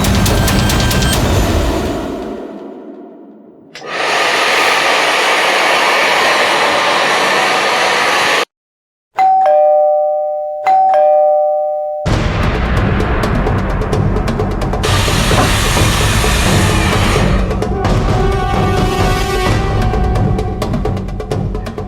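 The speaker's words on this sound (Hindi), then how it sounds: "एसी और हेयर ड्रायर की आवाज के ऊपर भी बेल की आवाज साफ सुनाई दे रही है" A hair dryer and air conditioner roar steadily, then a doorbell rings with a clear two-tone chime before the blowing noise resumes.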